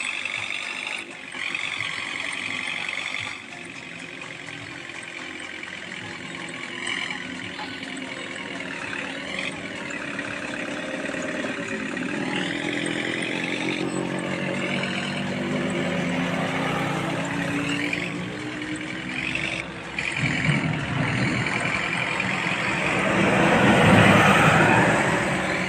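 Engine of an Indian truck in a video game driving along a narrow, dangerous road, a continuous droning rumble with rising and falling revs that grows louder near the end.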